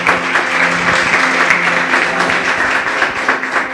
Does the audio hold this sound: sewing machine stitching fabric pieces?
no